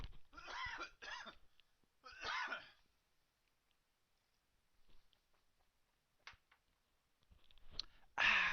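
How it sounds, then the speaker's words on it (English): Two quick coughs burst close to the microphone, then a third after a pause, followed by quiet stretches and a few faint clicks. "I narrowly avoided coughing into the microphone"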